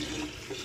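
Water runs steadily over sunflower seed and grain, milo or millet, being rinsed and strained, a soft, continuous splashing trickle at moderate distance with no talking.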